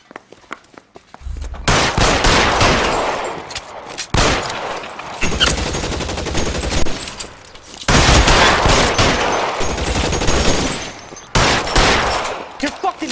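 Bursts of gunfire ring out in a shootout in L.A. Noire Remastered on PS4: several long, loud runs of rapid shots broken by short pauses, with little talk.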